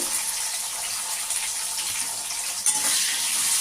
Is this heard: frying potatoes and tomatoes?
yes